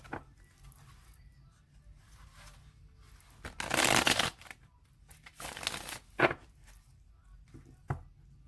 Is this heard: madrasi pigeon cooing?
no